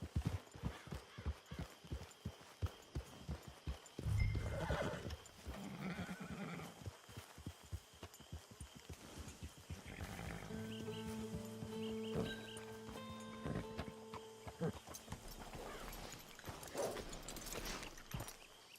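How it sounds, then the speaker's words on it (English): In a video game, horse hooves clip-clop in a quick, close rhythm, then a horse whinnies, with tack and ambient noise around it and a later stretch of tonal background music. "Get your horse."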